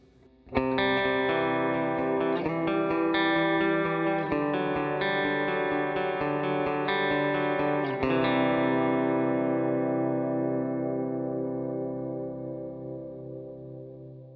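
Electric guitar chords ring through a stereo HX Stomp rig with reverb placed after the amp models, several strummed changes building a bright, clean wash before the last chord decays slowly into a long tail.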